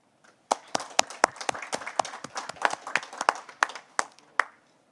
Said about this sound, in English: please join me in thanking our employees for their efforts and great job